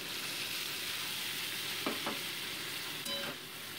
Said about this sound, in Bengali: এবার আমি মশলা পেস্টটা এর মধ্যে অ্যাড করে দিচ্ছি